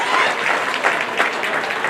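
A county fair crowd at a hog showmanship event claps for the contestants, a brief, steady patter of applause with faint voices underneath.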